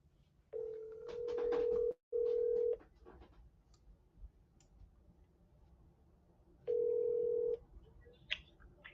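Telephone dial tones and ringback while calling a cell phone: a loud steady tone sounds twice in quick succession, then a third time after a pause, with faint clicks between.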